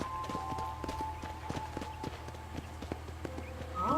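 Horse hooves clip-clop in a steady, quick rhythm in the Red Dead Redemption video game, moderately close against low ambient rumble and a faint tonal background.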